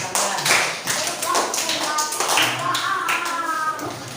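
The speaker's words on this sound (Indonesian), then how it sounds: "Tepuk tangan" Classroom applause from pupils, a burst of quick overlapping claps that rise and fade over a few seconds, with children's voices mixed in.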